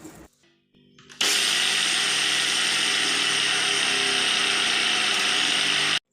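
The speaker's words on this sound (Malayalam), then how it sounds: "ഇനി ആ അരി എടുത്തിട്ട് ഒരു മിക്സിയുടെ ജാറിലോട്ട് ഇടുക. എന്നിട്ട് നമുക്കത് പൊടിച്ചെടുക്കാം." A mixer grinder whirs loud and steady as it grinds soaked, drained rice in its jar, starting abruptly after a few faint clicks and running without a break.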